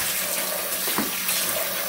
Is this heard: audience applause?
no